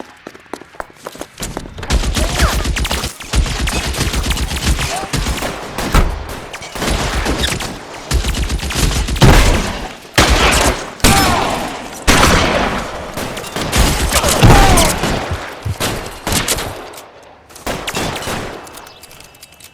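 Gunfire in the video game L.A. Noire: a sustained shootout of rapid pistol and machine-gun bursts, loud and dense, almost unbroken for twenty seconds.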